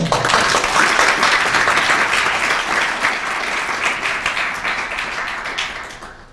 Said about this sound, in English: Please welcome Dr. John Delury with a warm round of applause again.